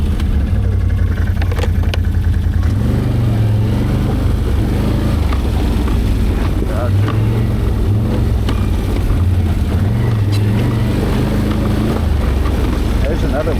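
An ATV engine drones loud and close on an Ozarks trail after shifting into high gear, its pitch rising and falling as it revs, with wind buffeting throughout and people talking faintly underneath.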